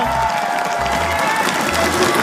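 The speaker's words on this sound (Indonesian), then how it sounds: "tepuk tangan buat Daryl." A television game-show studio crowd applauds and cheers continuously, loud and close, with a dense wash of clapping over a low rhythmic thumping beat.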